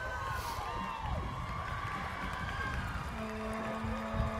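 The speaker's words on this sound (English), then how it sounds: "Dave, I can hear the roar of the crowd." Crowd cheering and shouting along an evening festival parade route as a high school cheer team approaches, a broad steady roar of many voices with scattered whoops, close and continuous.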